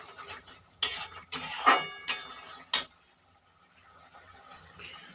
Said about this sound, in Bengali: নেড়ে মাখা মাখা করবো